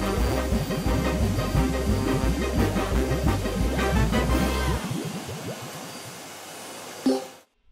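A cartoon vacuum cleaner whirring in a busy, steady drone that suddenly drops to a thinner hum, then cuts off with a brief final clunk.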